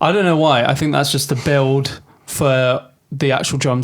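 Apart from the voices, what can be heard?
No everyday noise stands out behind the speech.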